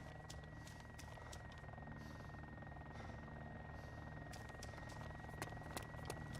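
A helicopter flies nearby in the Arma 2 DayZ Mod game as a low, continuous rotor drone, fairly faint under a steady background with a few light clicks.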